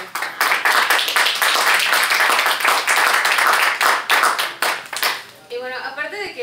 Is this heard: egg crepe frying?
no